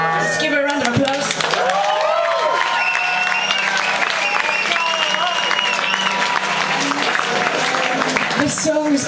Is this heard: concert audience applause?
yes